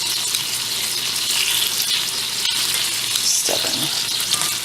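Bacon fries in a hot pan with a dense, continuous sizzle and hiss, plus brief handling noises and one short spoken word.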